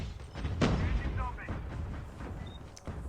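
In a video game, a grenade explosion bursts as a sharp, booming blast, followed by smaller thuds and gunfire-like cracks, with a player talking over the action.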